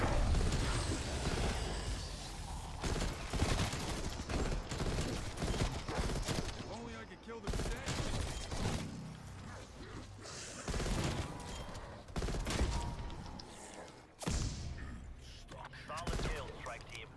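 Dense, near-constant gunfire from the Call of Duty Cold War Outbreak mode, with overlapping shots and heavy bursts rolling throughout, while a player talks over the fighting.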